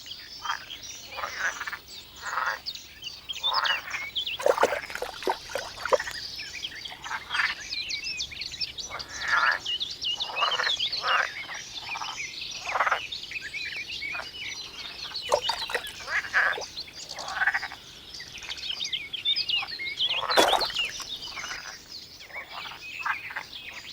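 A dense chorus of male green frogs croaking continuously at a pond, overlapping rapid calls filling the scene, with occasional louder bursts standing out.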